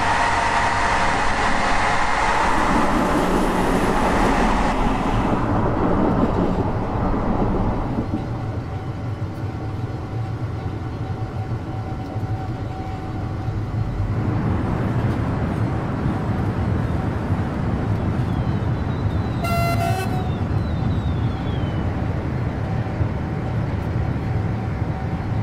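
A passenger train passing at a crossing in the Train Simulator 2020 game, a Corail Lunea service hauled by a BB 26037 locomotive, gives a loud, steady rumbling roar that shifts in tone midway, with a brief high tone near the end.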